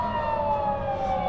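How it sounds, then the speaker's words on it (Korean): A fire truck siren wails steadily nearby in Ontario, Canada, its tone sliding slowly over a rumbling road background. "소방차인데 지나갔는데요"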